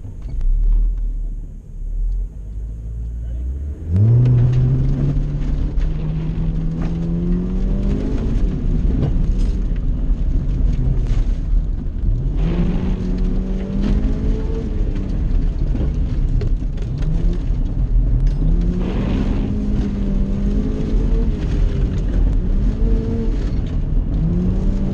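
A stock Honda Civic EK hatchback on a plowed ice track sits on a two-step launch limiter, its engine holding a loud, steady rev with a choppy rumble. Pitch swells rise repeatedly as it pulls away, close and alone with no talk.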